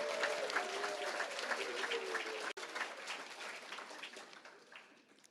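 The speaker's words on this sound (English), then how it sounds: "Please give Charles Clapsaddle and his team a round of applause" Audience applause at a leadership awards luncheon, a steady round of clapping from a room full of people, fairly loud and continuous, with a brief dropout midway and tapering off near the end.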